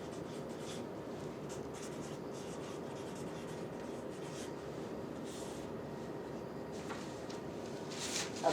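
Several people writing by hand on writing pads, a continuous faint scratch and rustle of pens on paper with small taps and page shuffles, steady throughout with no talking.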